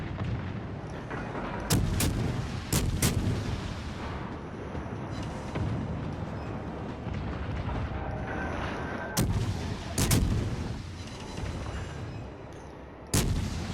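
Warship guns boom in World of Warships, several sharp loud blasts in separated clusters over a steady background rumble of naval combat, with no speech.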